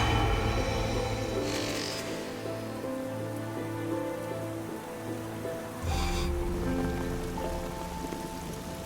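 Steady rain lashing a mountain cliff ledge in bad weather, a continuous close hiss of drops on rock with low rumbling and brief bursts of heavier spatter; no voices.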